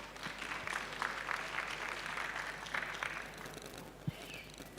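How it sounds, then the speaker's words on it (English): Faint, distant applause from a forum audience in Kenya, a soft continuous patter of clapping that thins out toward the end, with one sharper knock standing out. "please let's give Christine a round of applause"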